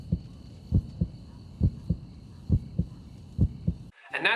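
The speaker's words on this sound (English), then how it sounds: "a heartbeat persisted throughout the credits" A steady heartbeat thumps through the end credits of the video game Deadly Creatures, regular paired beats over a faint high hum, cut off by a brief different sound at the end.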